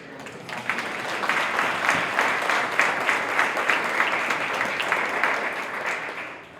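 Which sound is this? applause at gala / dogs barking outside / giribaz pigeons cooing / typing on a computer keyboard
applause at gala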